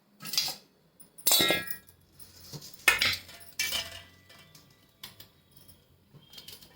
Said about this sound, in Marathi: आता ह्याचे देठ आहेत ना ते कट करून घ्यायचे असे